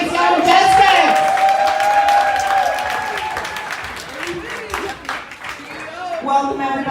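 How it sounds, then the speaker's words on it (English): Crowd applause and cheering greet the Seattle Majestics, a local professional women's football team, with dense clapping sustained for several seconds, whoops on top and some voices carrying through the noise. "let's give a round of applause, everybody"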